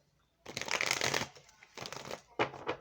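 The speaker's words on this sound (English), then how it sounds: "Let's shuffle up." Tarot cards being shuffled close up in three quick bursts of riffling and flicking, with brief pauses between them and no talk during the shuffling.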